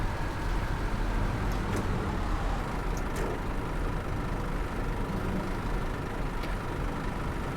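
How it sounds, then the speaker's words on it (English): A diesel bus engine rumbles steadily and close by, a constant low drone with a few faint higher clicks, and no talking. "Diesel engine."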